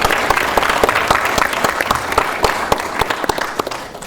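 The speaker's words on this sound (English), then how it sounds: "can we give ourselves a round of applause?" An audience at a hackathon opening ceremony claps, a loud, sustained round of applause with distinct individual claps sharp against the continuous roar, no speech over it.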